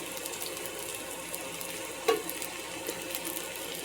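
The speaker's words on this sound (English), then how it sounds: "We got our sauce over here simmering." Sauce simmers quietly in a pan, a faint, steady low bubbling and hiss with one brief clink partway through, no voices.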